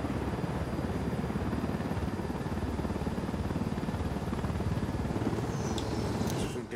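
A helicopter in the Ghost Recon Wildlands video game produces a steady, dense rotor and engine drone that holds constant and loud throughout, with a faint click near the end.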